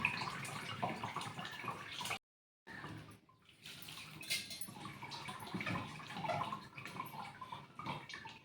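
Flattened rice (poha) is rinsed under running water, with faint splashing and trickling and a short pause of silence before the washing resumes.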